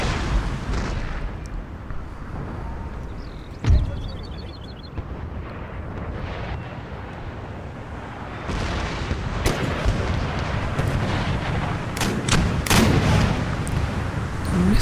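Musket volleys and artillery booms in the Empire: Total War battle, a dense continuous rumble of distant firing with scattered sharper cracks and one heavy boom, no voices.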